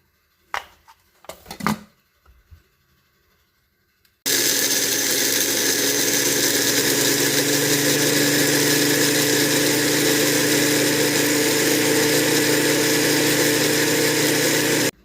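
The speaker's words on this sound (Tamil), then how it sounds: "இப்போ நாம் மசாலாவை நல்லா அரைச்சிட்டோம். நம்ம பெப்பர், ஜீரகம் அண்ட் சிக்கன் மசாலாலாம் ஆட் பண்ணியிருந்தோம் இல்லையா, அது நல்லா அரைச்சாச்சு." An electric mixer grinder powders pepper, cumin and chicken masala, starting after a few light knocks and then running as a loud, steady motor whine until it cuts off at the end, with no talk.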